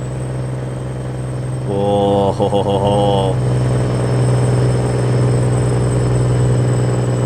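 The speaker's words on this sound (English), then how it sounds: "What's the engine brake sound like?" A Freightliner FLB truck in American Truck Simulator drones steadily while its engine brake kicks in for about two seconds with a loud, rattling, pulsing bark, then eases back to the engine hum; a voice briefly exclaims.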